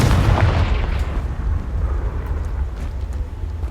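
Confringo blasting spell in Hogwarts Legacy, a loud booming explosion that bursts at the start and then rolls into a long rumbling decay, with no voices over it.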